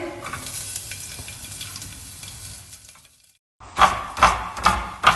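Garlic sizzles and fries in a hot pan, a steady crackle for about three seconds, then a short silence before louder bursts of sizzling and scraping as it is stirred, close and clear with no talk.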